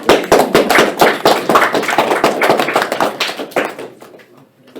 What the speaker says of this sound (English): Give a round of applause again first